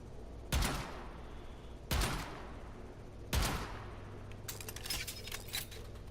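Semi-automatic Zenith rifle in the Warframe video game firing three sharp, loud shots about 1.4 seconds apart, each with a brief ringing tail, followed by lighter metallic clinks and rattles.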